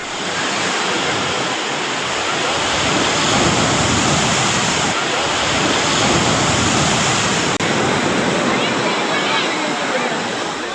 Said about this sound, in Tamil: மேலும் மழை காரணமாக திருச்செந்தூர் கடற்கரையில் கடல் கொந்தளிப்பாக காணப்பட்டதோடு மண் அரிப்பும் ஏற்பட்டது